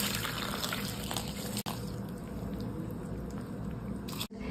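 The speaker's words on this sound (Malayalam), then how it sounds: "തണുപ്പിച്ചിട്ട് ഐസായി വെച്ചിട്ടുള്ള പാൽ ഇതിലേക്ക് ചേർക്കാം" Chilled, iced milk poured into a papaya and carrot juice mix makes a steady, close liquid stream with a faint splashing fill and two abrupt breaks, with no talk.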